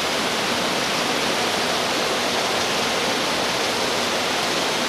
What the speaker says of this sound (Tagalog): Very strong waterfalls.